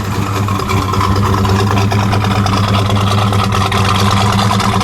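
Steady, loud idle of a 1968 Pontiac GTO coupe engine, a continuous low rumble with an even throb that holds unchanged throughout, heard up close.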